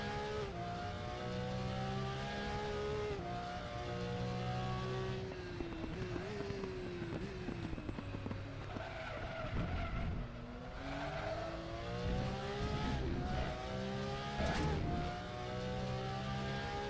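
Porsche Cup race cars in the RaceRoom racing game at the Zolder circuit, engines continuously revving and shifting through gears at high pitch, several cars overlapping, with brief tyre squeals, loud throughout.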